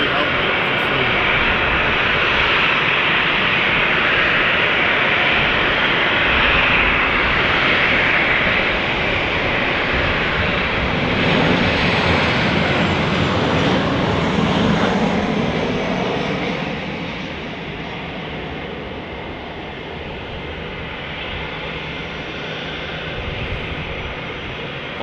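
A Ryanair airliner on approach and landing at Manchester Airport, its engine roar loud and steady throughout, easing slightly in the final seconds, with speech heard over it.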